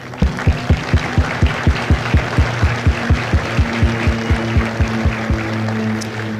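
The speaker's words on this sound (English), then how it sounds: "would you join me in a round of applause for the families of God's company?" An audience at a Marine Corps recruit graduation ceremony in San Diego claps for the recruits' families, loud, sharp and evenly spaced claps over a low steady hum.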